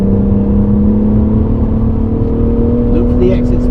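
A car engine holds a steady, loud drone under throttle while cornering on the Goodwood circuit, a continuous hum running throughout with a slight rise near the end.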